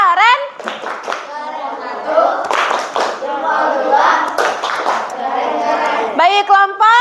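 An elementary class performs a rhythmic group clap, a chant-like cheer with children's voices calling out in unison between sharp clusters of handclaps, loud and close.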